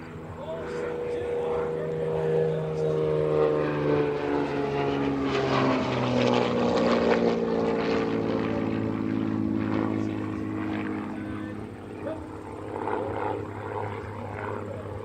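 A SIAI-Marchetti SF.260 propeller airplane passes at an air show, its engine drone swelling to a steady roar midway and then easing off, with an announcer talking over it throughout.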